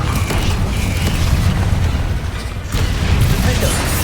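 The Confringo explosion spell goes off in the Hogwarts Legacy video game, giving a dense, loud booming blast that briefly dips and then returns, with a voice calling out.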